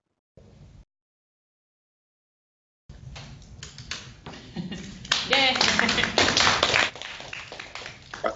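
Audience applause after a poetry reading, a burst of clapping that swells loudly then tapers, with a cheer and people talking over it.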